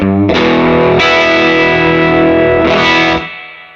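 A few sustained, distorted electric guitar chords through an overdriven 12-watt Princeton Reverb-style amp ring out loud and gritty, then cut off and fade.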